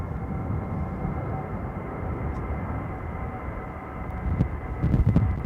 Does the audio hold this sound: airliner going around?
yes